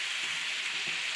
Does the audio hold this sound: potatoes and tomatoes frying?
yes